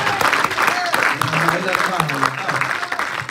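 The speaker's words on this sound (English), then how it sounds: "Give a hand clap for the Lord." A church congregation at Bible study claps steadily, dense and sustained, with voices speaking over the applause.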